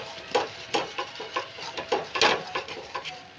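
Cooked lentils mixed with jaggery and cardamom powder are stirred in a pan, giving a rhythmic run of soft, thick scraping and squelching strokes at close range, with no voices.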